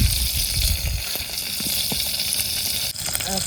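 Oil sizzles steadily in a pan as mutton fries, a dense close crackle and hiss with scattered pops and a brief dip near the end.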